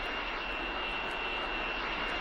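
A steady, loud airplane engine drone in the OMSI 2 bus simulator game, a continuous roar with a constant high whine that holds unchanged and has no voices.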